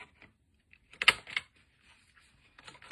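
A corner rounder punch bites through a paper corner, giving a few sharp, close clicks and crunches grouped near the middle, with faint handling taps before and after.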